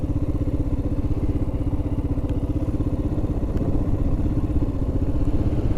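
Royal Enfield Himalayan motorcycle riding Iowa back roads, a close, loud, steady thumping single-cylinder engine beat with road rumble and a few faint clicks, no talking.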